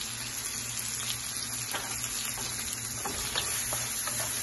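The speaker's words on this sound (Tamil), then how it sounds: "எண்ணெயில எல்லாத்தையும் ஒன்னாவே வதக்கிக்கோங்க. கூடயே தேவையான அளவு உப்பு சேர்த்துக்கலாம்." Onions, tomatoes and brinjal sauté together in oil with a soft, steady sizzle and scattered light scraping and stirring clicks, fairly faint and without voices.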